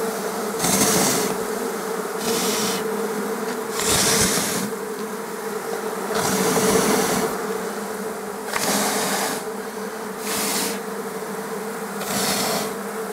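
Honey bees buzz steadily during swarming, a dense continuous drone with louder bursts as individual bees pass close by, recurring every second or two, with no talking.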